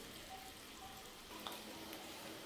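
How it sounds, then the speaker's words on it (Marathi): Moong dal pakoda fritters frying in oil over a medium flame, a faint, steady crackle and hiss with a few small pops, no talking. "आता मीडियम फ्लेमवर मी हे तळून घेते।"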